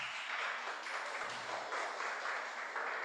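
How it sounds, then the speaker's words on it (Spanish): A church congregation applauds in steady clapping, faint and distant, with no voices over it. "denle un aplauso al Señor"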